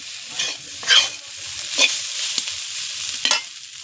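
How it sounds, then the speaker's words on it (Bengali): Sliced snake gourd fries in a pan with a steady, close sizzle of oil, punctuated by several sharp scrapes and clacks of a spatula stirring the pieces. "দেখুন বন্ধুরা কত সুন্দর ভাজা হয়ে গেছে"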